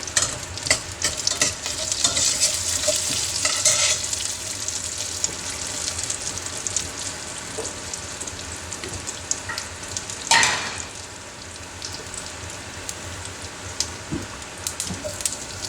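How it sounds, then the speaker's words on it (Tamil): A tempering sizzles in sesame oil and ghee, crackling and spitting steadily near the mic with stirring scrapes and a sharper burst partway through; no one speaks. "கொஞ்சம் நல்லெண்ணெய் கொஞ்சம் நெய் சேர்த்து தாளிப்புக்கு எடுத்து வச்சுருந்த சேர்த்து"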